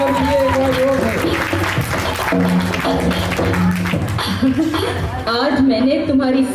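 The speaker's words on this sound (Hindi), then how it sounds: "तालियां बजा दीजिए एक बार जोर से।" Listeners clap loudly during a storytelling of Chandanbala's tale. Sustained applause runs under voices and tonal music throughout.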